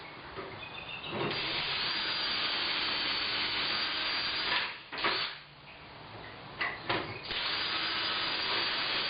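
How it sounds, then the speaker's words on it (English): A power drill whirs steadily at close range drilling holes in garage cabinets, pausing briefly twice midway before running again. "all I have to do is drill these two holes"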